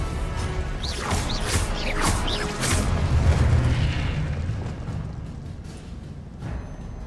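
A Confringo explosive spell blasts in Hogwarts Legacy, booming with a crashing, whooshing burst that rolls and fades over several seconds amid game effects.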